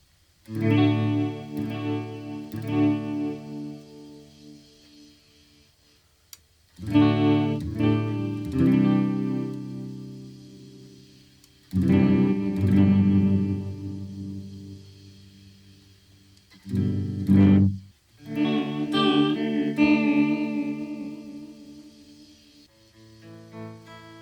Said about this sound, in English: So I want to get into some chorus flanger, and that's the 30s.